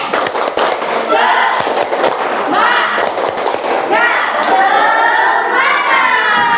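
Classroom group performing a tepuk semangat rhythmic clapping chant, loud close bursts of sharp claps in patterned rhythm mixed with many young voices shouting along together throughout.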